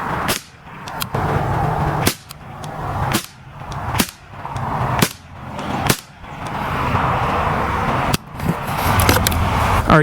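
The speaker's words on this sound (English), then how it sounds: "We're going to shoot a few groups" A Ruger 10/22 rifle fires outdoors at a 200-yard target, about nine sharp, loud cracks spaced a second or two apart over a steady background of wind or ambient noise.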